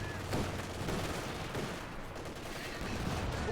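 Dense, continuous battlefield gunfire from the video game Company of Heroes 2, with rapid machine gun bursts blending into a loud, steady wash of combat noise that persists throughout without a break.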